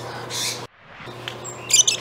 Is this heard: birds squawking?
yes